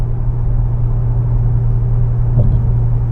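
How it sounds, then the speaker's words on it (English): A 2014 Maserati Quattroporte S Q4 with a V6 engine drones steadily while driving, a low, even hum with road rumble that holds constant throughout, with no talking. "this is just going to be my main impressions about driving the V6"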